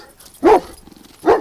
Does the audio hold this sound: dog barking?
yes